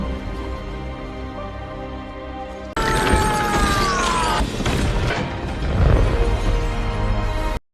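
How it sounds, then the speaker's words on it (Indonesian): A sudden loud boom cuts in after a quiet hum as a time machine explodes and breaks, followed by a sustained roaring, crashing rumble with descending tones and debris-like clatter. "menimbulkan ledakan besar sebelum mesin waktu rusak."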